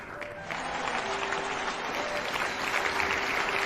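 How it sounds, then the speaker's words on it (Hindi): An audience bursts into loud, sustained applause at a company event, the dense clapping holding steady throughout with no voices over it. "जोरदार ताली डॉक्टर एस रंजन सर"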